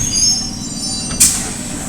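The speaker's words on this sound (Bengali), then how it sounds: "স্টেশন চত্বরে ট্রেন এসে দাঁড়ালো" A passenger train pulls into Santipur Junction station, its steady rumble carrying a sharp metallic wheel squeal that flares briefly partway through, with no voices.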